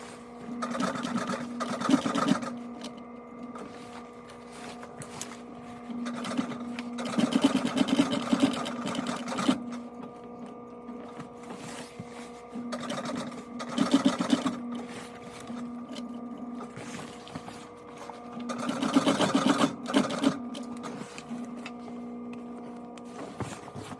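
A sewing machine stitches a patch onto white fabric, running in repeated bursts of steady mechanical whirring and rattling, each lasting a few seconds, with a quieter motor hum between runs.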